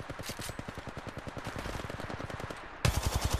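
Rapid automatic gunfire in Apex Legends Mobile: a long, steady stream of evenly spaced shots, then a louder, closer burst near the end.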